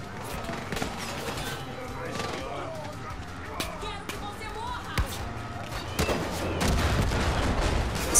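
Gunfire in the video game Far Cry 5: sharp, irregular shots and bursts crack through a busy game soundscape, some isolated and some in quick clusters, with a player talking over the action.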